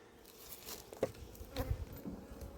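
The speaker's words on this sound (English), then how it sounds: "And here we go, there's a guard bee." Honeybees hum around an opened hive at an apiary while colonies are checked for queen cells, a faint buzzing with a few brief, closer passes of individual bees and light knocks.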